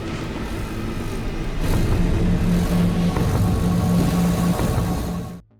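A truck drives across the wasteland in S.T.A.L.K.E.R.: Shadow of Chernobyl, its engine a loud, steady rumble that swells after the first couple of seconds and holds before cutting off abruptly.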